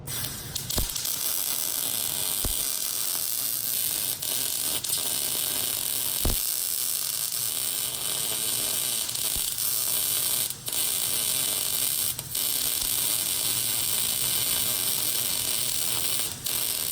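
Steady, loud crackling hiss of heavy arc welding on steel post dollies, running continuously with a few brief breaks and sharp clicks.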